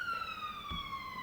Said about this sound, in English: there's sirens that go past the window every now and again